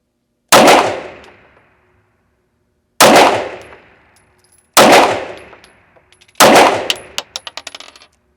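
A Springfield Armory Prodigy 1911 DS double-stack 9mm pistol fires four sharp, loud shots at uneven intervals outdoors, each with a ringing decay; brass casings tinkle and clatter after the last shot.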